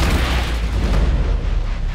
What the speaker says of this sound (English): even with these huge explosions and that kind of stuff